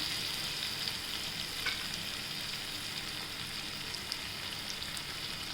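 Ridge gourd curry with fresh coriander cooking in a pan, a quiet, continuous sizzle with faint occasional stirring ticks, low and steady throughout.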